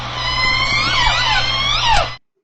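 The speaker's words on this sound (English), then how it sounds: "So this is what J-pod sounds like." J-pod orcas, the southern resident killer whales, calling underwater in a continuous stream of overlapping whistled and sweeping calls over steady hydrophone hum, ending abruptly after about two seconds.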